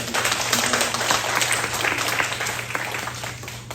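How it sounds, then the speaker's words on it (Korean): A church congregation claps together in a dense, steady burst of applause during a Sunday service, continuing evenly for a few seconds, fairly close and loud. "박수로 한번 축하하겠습니다"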